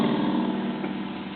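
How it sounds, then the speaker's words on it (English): Steady engine rumble of traffic passing outside a home, a continuous low idling drone at moderate level with no voices over it. "There's some traffic outside my home."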